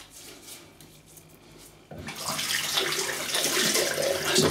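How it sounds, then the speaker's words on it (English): A shaving brush is dipped under a running tap. A faint low hiss for the first two seconds, then the tap opens fully into a loud, close, steady gush of splashing water, with no speech. "I'm just going to dip the brush under the tap."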